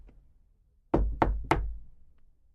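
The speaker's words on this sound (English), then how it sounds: "so I knocked on the door." Three sharp knocks on a wooden door, evenly spaced and close, ringing out loud against near silence.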